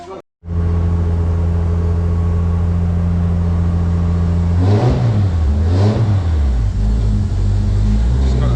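A turbocharged race car engine prepared for a drift event fires up and idles loudly nearby, then revs hard twice in quick bursts before settling back to a rumbling idle.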